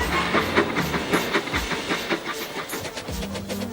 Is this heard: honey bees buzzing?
no